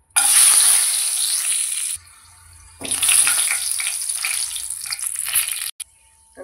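Whole spices such as bay leaves, star anise, green and black cardamom and cinnamon sizzle in hot oil in two loud frying bursts, separated by brief lulls with a faint low background hum.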